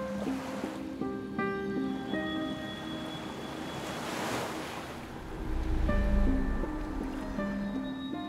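Ocean waves at the shore during a storm, a continuous rushing surf with a swell building to a louder crash, wind buffeting the microphone over faint background music.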